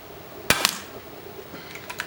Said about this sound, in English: shoot 5 and see where they end up